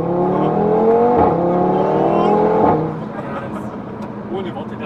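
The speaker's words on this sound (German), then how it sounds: "Also dieser 5-Zylinder, das klingt richtig gut." A 2016 Audi TT RS with a 400 PS five-cylinder engine and exhaust flap open revs and accelerates with a rising, throaty drone, then drops back to a softer hum as someone talks over it.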